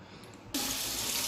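Water starts gushing from a kitchen tap for hand-washing before mixing dough, switching on abruptly after a short quiet lead-in and then running steadily and loudly, with no one speaking.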